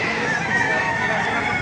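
Chickens and roosters at the Baliuag market, a dense continuous chorus of clucking and crowing filling the space, close and loud with busy market background.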